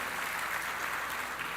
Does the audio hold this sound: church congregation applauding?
yes